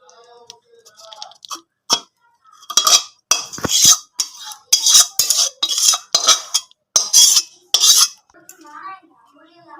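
Cooked cauliflower curry being scraped from a pan into a dish makes a run of sharp metallic spoon clinks and scrapes in quick, irregular bursts, close and fairly loud, with brief quiet gaps.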